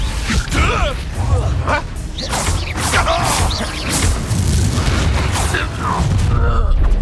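In a Hogwarts Legacy duel, Confringo blasting-spell explosions go off as repeated heavy booms and whooshing bursts, close and loud, with voices calling out amid the combat.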